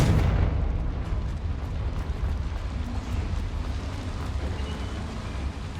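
A Confringo fire spell goes off with a loud explosive blast inside a mine in Hogwarts Legacy, then a long rumbling roar that slowly fades.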